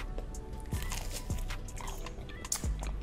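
Close, wet bites and chewing of a small sausage in barbecue sauce during a seafood boil mukbang: three sharp crunchy bites spaced about a second apart, with soft mouth sounds and faint clicks in between.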